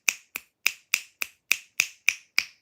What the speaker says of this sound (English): Here, I'm clapping for you. I'm sorry, I can't use my full hand.